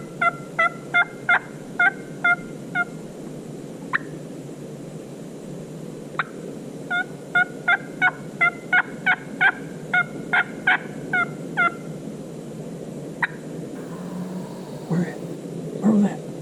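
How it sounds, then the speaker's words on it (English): Several wild turkeys gobble in answer to a hunter's mouth call in Alabama woods, repeated rattling gobble bursts at mid distance, in two long clusters with single calls between, over a steady outdoor hush. "I get them to gobble."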